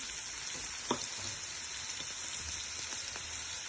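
Crushed garlic frying in a pan for an ivy gourd fry, heard as a faint, steady hiss of sizzling oil with one soft stir or scrape near the start.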